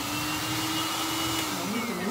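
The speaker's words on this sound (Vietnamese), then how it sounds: "Đây thì mình sẽ dùng cái máy sấy này, máy sấy siêu to khổng lồ này." A very large pet hair dryer used in a drying cage to dry a cat after an antifungal bath, giving a loud, steady, close whirring roar much like a vacuum cleaner, with a slight pitch shift near the end.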